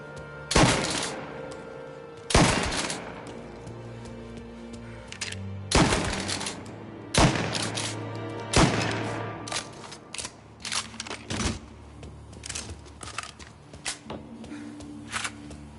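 Gunfire in Mafia Definitive Edition: sharp, loud bursts of shots in irregular clusters, some spaced seconds apart and later a quicker run of cracks, with no talking.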